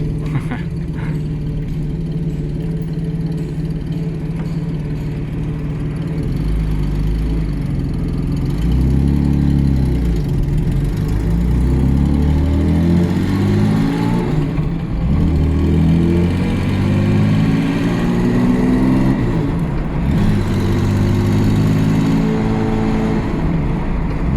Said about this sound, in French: le bruit du moteur, ouais. Qui est vraiment super agréable